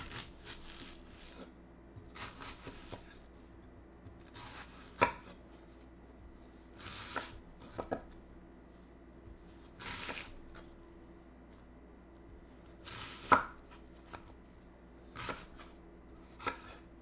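Onions are chopped with a knife in a quiet kitchen, a series of soft, close, irregular board taps and slices with short pauses between them.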